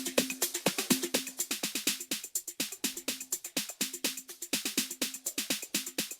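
A fast, steady Roland 606 drum machine pattern of crisp hi-hats and punchy toms repeats in a tight groove, with no voices.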